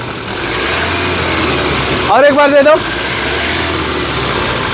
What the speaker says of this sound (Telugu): ఇంజిన్ యొక్క నాయిస్ కూడా చాలా సైలెంట్గా అయితే ఉందండి